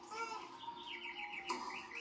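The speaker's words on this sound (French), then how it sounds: "Gazouillis d'oiseau." A light birdsong ambience effect from the Nintendo Switch Sports video game plays softly, with repeated thin chirps and tweets over a steady low background.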